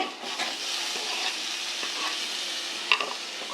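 Chopped onions and tomatoes fry in a pan as the base for a chicken and field bean curry, giving a steady close sizzle with a soft stirring scrape near the end.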